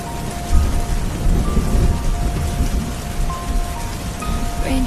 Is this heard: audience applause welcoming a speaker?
no